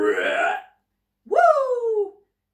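A voice imitates an enormous burp from a toy-making machine, with a short rasping burst followed by a louder, drawn-out belch after a brief pause.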